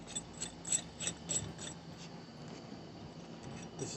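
Wheel nuts with lug washers being tightened on a homemade all-terrain sand wheelchair, a ratcheting series of quick metallic clicks, rhythmic at first and then fading into a steady mechanical rasp, close up and alone.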